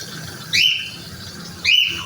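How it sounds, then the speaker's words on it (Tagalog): A pet bird gives two sharp, bright chirps about a second apart over a low steady background hum. "ang ingay ng alaga kong ibon"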